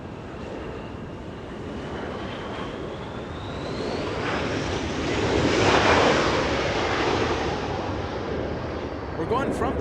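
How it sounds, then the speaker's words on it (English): A SkyWest Embraer E175 regional jet arrives at Los Angeles International Airport, its engine roar swelling to a peak midway and then easing off, with a faint whining tone drifting across it and a voice talking over the sound. "Little one coming in, SkyWest 3306 from Bozeman, Montana"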